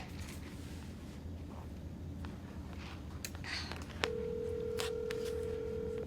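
A telephone ringback tone sounds steadily through a handset after a few faint clicks and beeps, with a low background hum.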